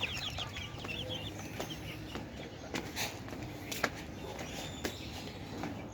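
Chickens inside a chicken house give soft, scattered clucks over a low hum of activity, with a few sharp knocks and a faint footstep or two, at moderate distance with no talk.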